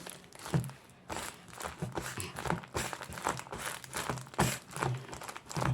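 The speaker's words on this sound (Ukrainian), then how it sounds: "Він дуже для мене прикольно сквішить." A homemade squishy toy made of paper, tape and cotton pads is squeezed over and over, giving soft, close crinkly crunches in an uneven rhythm.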